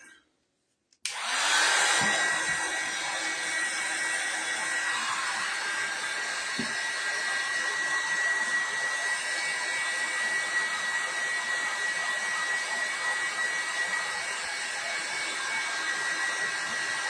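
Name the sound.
hair dryers drying paint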